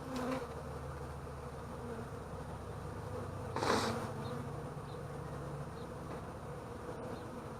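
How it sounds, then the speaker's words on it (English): Honey bees buzz steadily at an open beehive during a spring hive inspection, a continuous close drone with a brief louder swell as bees pass near, no talking. "Look at all the bees up there."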